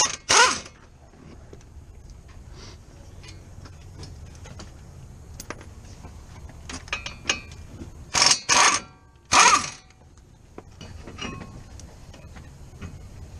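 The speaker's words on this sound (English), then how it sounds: "Just remove the two 18mm nuts on the back of the spindle here." Ratchet loosening the 18mm nuts on the back of the spindle of a 2002-2005 Ford Explorer during a wheel bearing hub replacement: faint metallic clicking and creaking close by, broken by several short, harsh bursts of ratcheting.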